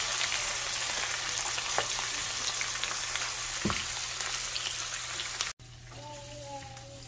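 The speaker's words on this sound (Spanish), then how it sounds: "Aquí que se frían junto con la carne." Pork and peas fry together in a pan, a loud, dense, continuous sizzle and crackle that cuts off abruptly near the end and gives way to a quieter background.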